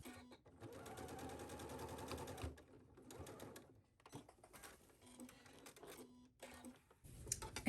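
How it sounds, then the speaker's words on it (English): A sewing machine runs in rapid mechanical bursts, stitching steadily for a couple of seconds, then stopping and restarting in shorter runs. "while I'm here at the sewing machine, I'm actually going to do a stitch along the straight edge"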